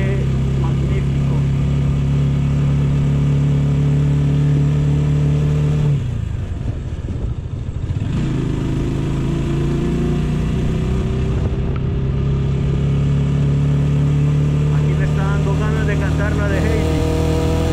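An AKT GP 180 motorcycle engine revs and accelerates in a loud, close, steady drone, dipping briefly around gear changes before climbing again.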